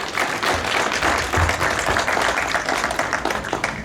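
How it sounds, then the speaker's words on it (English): A crowd at a Howard Huskies football event claps for head coach James Howard, dense sustained applause at moderate loudness with a few louder bursts, no talking over it. "Put your hands together for Coach Howard."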